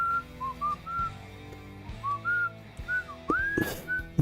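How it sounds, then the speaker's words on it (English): A man whistles a short melody of bright, wavering notes in repeated phrases, close and clear, with faint background hum and a brief louder burst near the end. "Can I actually whistle? Of course I can."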